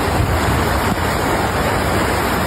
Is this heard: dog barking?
no